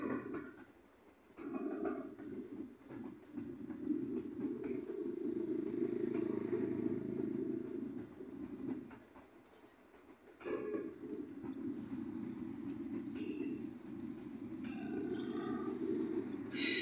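A Green Line passenger train runs under a bridge in Rohri city, a steady rumbling clatter that dips briefly midway and then resumes as the last carriages pass.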